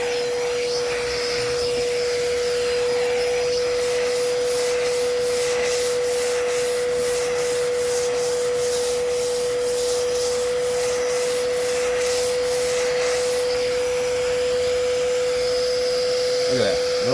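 A Mirka Handy sanding block with vacuum dust extraction: a loud, steady vacuum whine runs throughout, with an even, rhythmic scraping of abrasive sanding over it through the middle stretch.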